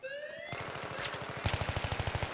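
Rapid automatic gunfire in a video game, a fast regular burst of shots that grows louder and sharper partway through, with no talking.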